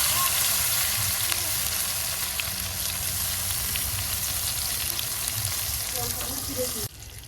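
Tomatoes hit hot oil in which sugar has caramelized red with black cumin seeds, giving a loud continuous close sizzle and bubbling hiss that drops suddenly quieter near the end, with no talk.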